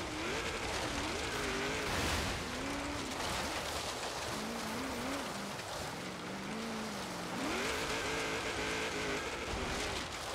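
A 1995 Chevrolet Corvette ZR-1 races in a hill climb time attack, its engine droning loudly and continuously with rising and falling revs through the gears, close and steady, with some tire noise.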